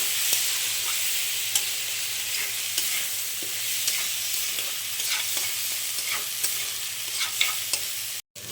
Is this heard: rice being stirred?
yes